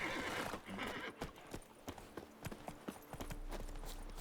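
Wild horses in The Witcher 3 clop their hooves in uneven, scattered beats and neigh, with game ambience underneath.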